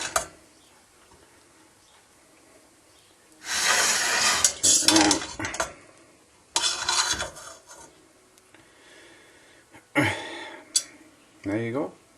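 Cooked rice fluffed with a utensil in a pot, a few short bursts of scraping and clinking metal against the pan separated by quiet pauses, close and clear with a voice talking between strokes.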